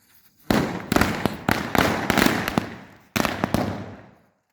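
Firecrackers set off at a father's birthday celebration burst in rapid sharp bangs, close and loud, in two dense volleys separated by a brief gap, ending in a trailing crackle.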